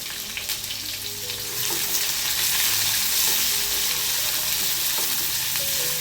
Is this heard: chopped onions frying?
yes